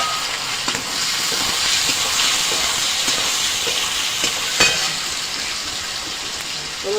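Chopped onions fry in a pan with a loud, close, steady sizzle, broken now and then by the scrape and clatter of a spoon stirring them.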